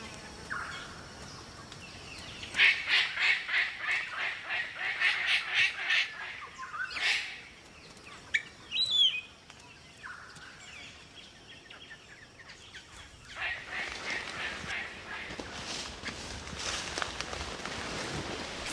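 A palm cockatoo calls in Australian rainforest, giving repeated harsh, rapid squawking bursts at close range, then several sharper isolated calls, followed by a softer continuing stretch of bird calls toward the end.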